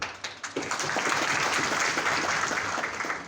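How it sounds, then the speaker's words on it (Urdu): Applause from the audience at an Urdu poetry mushaira, a dense, steady wash of clapping that rises within the first half second and holds at a fairly close, moderate level with no talking over it. "اس پر تالی نہیں چاہیے"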